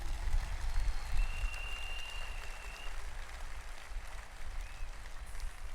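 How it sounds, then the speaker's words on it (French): An audience at a French-speaking Christian gathering applauds the parents, a soft, distant patter of many hands clapping that stays steady and fairly low throughout, with a brief whistle-like tone partway through. "je voudrais qu'on applaudisse nos parents pour leur dire merci"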